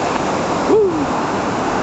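Ocean surf washes onto a beach as a steady broad rushing roar, close and unbroken, with a brief faint voice-like tone rising over it midway.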